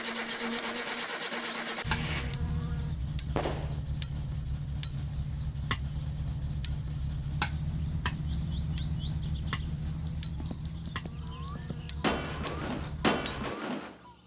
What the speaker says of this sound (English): you will hear metallic clicks of different tones.